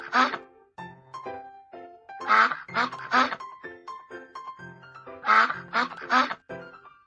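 A duck quacks in repeated bursts of two or three, loud and close, with brief musical tones between the calls, in a children's cartoon game's hearing test.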